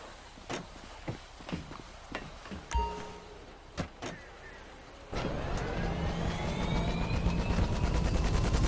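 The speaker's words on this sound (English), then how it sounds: "I guess this is our chopper." A helicopter in a video game, with a few thumps and clunks first, then a steady loud rotor whine and drone that starts suddenly partway through and keeps building to the end.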